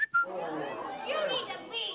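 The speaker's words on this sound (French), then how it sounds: "dès qu'on siffle, elles accourent comme des zombies" A person whistles a short, wavering tune to call chickens, rising and falling in pitch, close and fairly clear with a faint background murmur.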